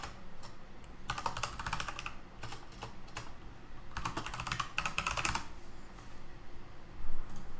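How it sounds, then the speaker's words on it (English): Typing on a computer keyboard, heard up close as rapid bursts of clicking keystrokes with short pauses between phrases, and no voice. "let's type in welcome to my e-commerce platform"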